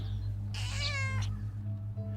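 A single drawn-out cat meow, clear and close, rising and then falling over about a second against a low steady hum, used as a sound effect in a horror audio drama, with no speech.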